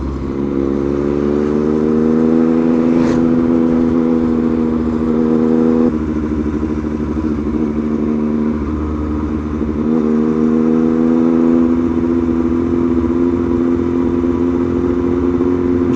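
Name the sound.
motorcycle riding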